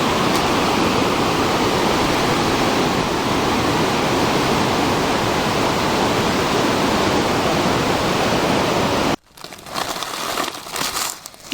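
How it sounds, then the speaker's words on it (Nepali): A swollen river in flood rushes loudly below a trail in rural Nepal, a dense continuous roar of heavy water filling the first nine seconds before it cuts abruptly to quieter, lighter rushing. "कस्तो धेरै ठुलो पानी आएछ नि खोलामा"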